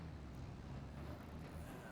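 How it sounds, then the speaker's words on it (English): A tractor labors up a hill, a steady low engine drone strained under load, continuous and moderately loud without voices. "Oh, this tractor doesn't have enough to make it up the hill."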